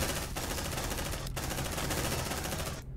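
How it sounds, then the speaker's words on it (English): Sentry gun in the video game Aliens: Dark Descent firing a loud, continuous automatic burst for nearly three seconds, with two brief breaks in the rapid stream of shots before it cuts off abruptly. "Deploying sentry gun."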